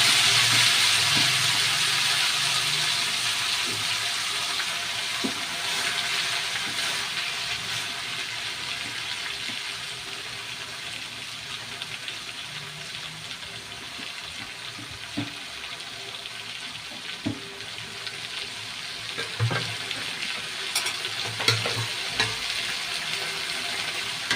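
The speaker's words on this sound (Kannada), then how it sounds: "ಈ ಥರ ನಿಧಾನಕ್ಕೆ ತಿರುಗಿಸ್ಬೇಕು, ಇಲ್ಲಾಂದರೆ ಸೊಪ್ಪೆಲ್ಲ ಚೆಲ್ಲೋಯ್ತೆ" Leafy greens being slowly stirred and fried in a pan, a continuous soft sizzle broken by occasional scrapes and taps of the spoon, gradually settling quieter over time.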